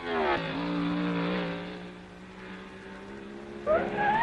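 1962 Formula One race cars at the French Grand Prix at Rouen, engines roaring loudly past close by, one sustained pass fading and then a fresh rising engine note at the end.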